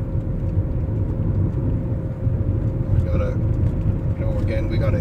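A BMW E39 electric conversion with a Prius inverter and a Siemens 1PV5135 motor accelerating uphill, giving a steady low rumble with a faint tonal whine, with someone speaking over it throughout.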